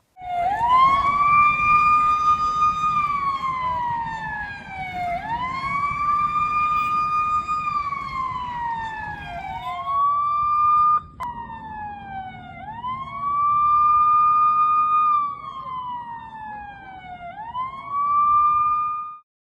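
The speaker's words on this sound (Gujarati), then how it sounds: "ડુમસ બીચ પરથી સહેલાણીઓને બહાર કાઢવા પોલીસ સાયરન વગાડી રહી છે" A police siren wails in repeated rising and falling sweeps at Dumas Beach after sunset, loud and continuous for several cycles, with faint engine noise underneath.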